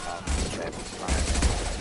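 Gunfire in Mass Effect 2 crackles in two rapid bursts of close, loud shots separated by a short pause, with faint voices underneath.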